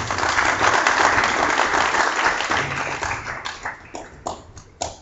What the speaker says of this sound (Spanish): Un aplauso para Ana Córdoba